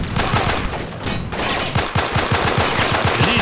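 Rapid machine gun fire in the Delta Force: Black Hawk Down video game, with a steady run of loud, close bursts and overlapping shots across a dense battle din.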